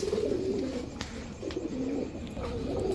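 Red checker racer pigeons coo in a steady, overlapping murmur, close and fairly loud, repeating in soft rolling phrases throughout with a constant low background.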